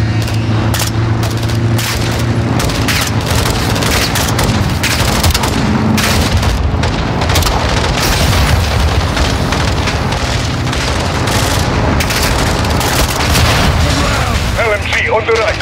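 Rapid gunfire and heavy booming explosions fill a Modern Warfare battle, including a rocket launcher hit, loud and dense throughout with overlapping blasts, while players shout over the din.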